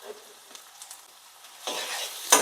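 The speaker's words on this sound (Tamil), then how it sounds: "கருவேப்பிலையும் போட்டுக்கிறேன் அதுலேயே." Curry leaves and chopped large onion fry in a pan for a Tamil fish kulambu, a soft steady sizzle with light stirring scrapes, the frying growing louder near the end as the pan is stirred.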